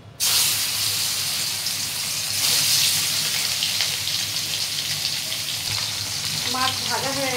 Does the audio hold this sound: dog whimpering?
no